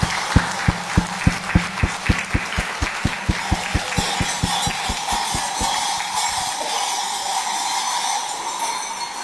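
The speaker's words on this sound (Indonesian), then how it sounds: "Mari kita sambut dengan tepuk tangan." Audience at a cultural talk show on the Manggarai Caci dance claps in unison, with sharp, evenly spaced beats for about six seconds before the sound loosens into a softer, scattered wash.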